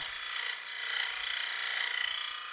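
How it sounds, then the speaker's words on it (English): A saw blade cuts wood at an angle with a continuous, even rasping hiss that holds steady for the whole stretch, close and fairly loud. "I'll put a little bit more pressure on the saw blade to make sure where it bites where I want it to"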